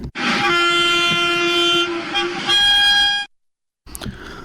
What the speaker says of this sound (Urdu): جوم تو سری نگرس درمیان چلن واجن وندے بھارت ایکسپریس ریل گاڑی